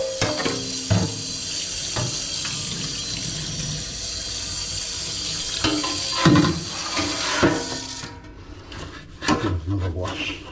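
Kitchen tap water runs steadily into a sink while oily dishes from a salmon and roast potato dinner are scrubbed, with clatters and knocks of dishware, and the flow stops near the end before a few more clunks.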